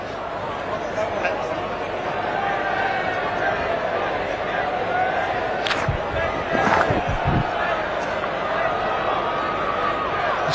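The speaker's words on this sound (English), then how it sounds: "Oh, the crowd are loving it, and so am I." A cricket crowd roars and cheers in a steady wash of noise, with a few sharp shouts and bangs, while a commentator talks over it.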